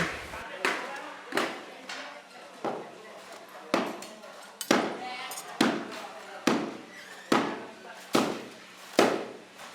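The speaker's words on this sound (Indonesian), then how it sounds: "Kalau penghalusan kaki-kakinya biasanya pakai palu kayu." A wooden mallet strikes a metal gamelan piece in repeated sharp knocks, about ten hits at a steady, fairly quick rhythm, each with a short metallic ring, close and clear with no talk.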